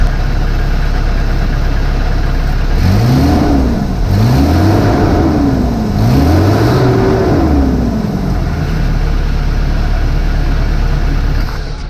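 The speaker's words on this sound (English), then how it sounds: "Let's go ahead and give it a little rev." A van engine with a freshly repaired exhaust leak idles loudly, then revs three times in a row, each rise and fall distinct over the rumbling idle.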